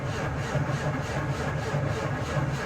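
A tractor engine cranks in extreme cold around minus thirty-five degrees, a rhythmic labored churning pulsing about three times a second, loud and close, without catching or firing up.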